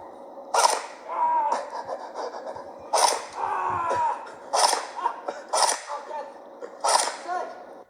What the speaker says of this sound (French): J'ai tiré mes 5 billes, ça pourrait faire beaucoup.